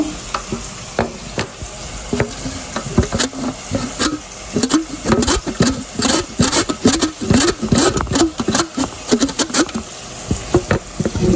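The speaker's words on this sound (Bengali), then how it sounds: "বিটরুটগুলো আমি গ্রেট করে নিচ্ছি" Beetroot rubbed against a hand grater makes repeated rough scraping strokes in an irregular, fairly fast rhythm, loud and close, with no talking.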